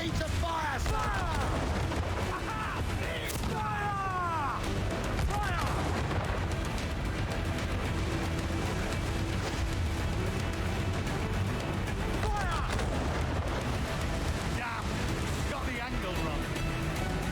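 Ship cannons firing in Assassin's Creed 4 Black Flag, a dense naval battle of repeated booming blasts and gunfire over constant roar, with shouted voices in the mix throughout.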